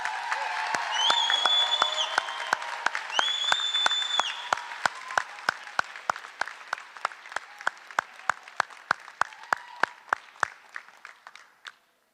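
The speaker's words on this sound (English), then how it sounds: "can we just give our graduates one more round of applause?" Crowd at a summer high school graduation ceremony claps for the graduates, with whoops and cheers in the first few seconds, then the applause thins into scattered individual claps that fade out.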